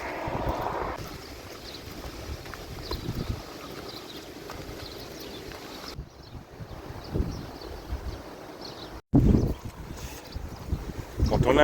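Strong, violent gusts of wind buffet the microphone, a rough, roaring rush that swells and drops irregularly, with a voice speaking over part of it.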